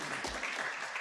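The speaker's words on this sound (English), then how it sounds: "you can all clap." Audience applause at a 2022 partnering conference in New Delhi, a short burst of steady clapping from a crowd filling the hall, fairly even throughout with no voices on top.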